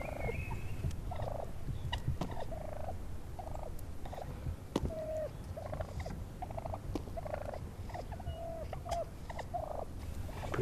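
Wild turkeys gobble repeatedly around a decoy on a farm, several loud gobbles coming in bursts over steady outdoor background noise, with no talking.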